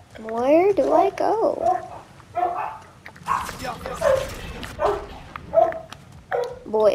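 Dogs bark and whimper in God of War Ragnarök, several short yips and barks close by, mixed with game sounds and someone talking over them.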